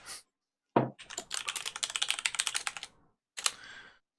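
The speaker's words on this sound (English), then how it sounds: "I'm going to type in, hey guys." Quick bursts of clicking keystrokes on a computer keyboard, close and fairly quiet, with brief pauses between short runs of typing.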